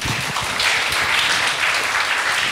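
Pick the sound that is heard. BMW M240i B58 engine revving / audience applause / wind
audience applause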